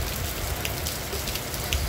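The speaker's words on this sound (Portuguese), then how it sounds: "Somzinho de chuva muito bacana." Steady rain falls on a Sunday in Santana do Ipanema, Alagoas, a dense even patter of drops on surfaces close by, continuous with no voices.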